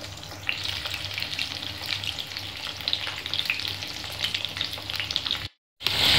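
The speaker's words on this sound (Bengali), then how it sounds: "কড়াইয়ের মধ্যে এখানে আমি পটল আর আলু একসাথে ছেড়ে দিয়েছি" Pointed gourd and potato pieces fry together in plenty of oil in a wok, giving a loud, steady crackling sizzle that cuts out briefly near the end.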